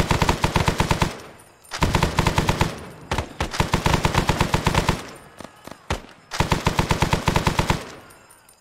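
Machine gun fire in the military shooter Arma 3 comes in long, rapid sustained bursts separated by short pauses, loud and close, with a few scattered single shots between bursts.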